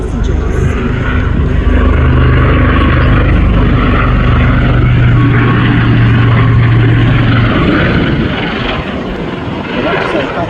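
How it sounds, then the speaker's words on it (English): A Westland Lynx AH-7 Army Air Corps helicopter flies at the Clacton airshow, making a loud, steady rotor and engine drone throughout, with a voice talking over it. "was an upgraded land-based design of the Lynx for the British Army Air Corps"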